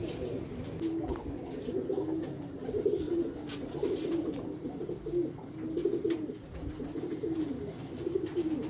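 A large show pigeon and its loftmates coo in repeated low rolling phrases, close by and steady, with faint chirps and rustling in the background.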